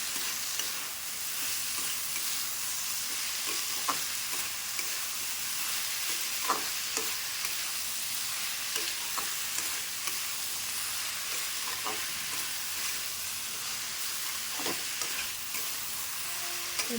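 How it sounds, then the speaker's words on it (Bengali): Potatoes and cauliflower fry in a pan with a steady, close sizzle, broken by light scraping taps as the vegetables are stirred at irregular intervals. "এই যে কপিটা দিয়ে এবার আস্তে আস্তে করে আমি নাড়াতে চাড়াতে মানে এটা একদম নরম হয়ে যাবে"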